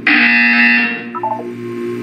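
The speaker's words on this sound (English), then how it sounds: "You will hear a buzzer." A loud, steady electronic buzzer tone sounds in a Portal 2 video game test chamber, holding for about a second before dropping into a short, wavering lower tone.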